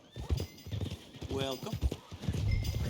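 Horse hooves clip-clop and a horse whinnies in the Red Dead Redemption 2 video game, with a voice speaking over the steady hoof beats near a stable.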